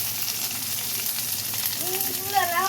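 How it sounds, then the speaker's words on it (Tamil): Oil sizzles and crackles steadily as a single small onion fries in a pan, with a voice speaking briefly near the end. "ஒரு சின்ன வெங்காயம் தான் ஒன்றே ஒன்று போட்டிருக்கேன் கொஞ்சம் நல்லா வதங்கட்டும்"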